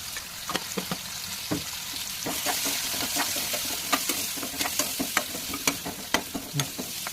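Onions with turmeric and salt being stirred in a hot pan, a low sizzle under repeated scraping strokes of a spoon that come in an uneven rhythm, close and moderately loud.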